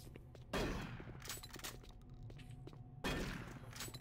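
Two loud shotgun blasts ring out in Doom 3, about two and a half seconds apart, each a sharp burst with a decaying tail, separated by quieter clattering and in-game ambience.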